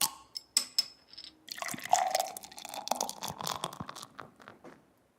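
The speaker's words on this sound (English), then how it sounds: "You're opening a bottle and pouring a bottle?" Beer poured from a bottle: a few sharp clicks and taps of the opening bottle, then a gurgling, fizzing stream of liquid with foamy crackle that fades to quiet, heard close and alone.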